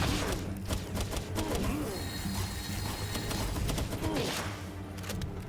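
Rapid bursts of gunfire rattle from weapons in the video game Palworld, repeated clattering shots running continuously at moderate loudness under someone talking.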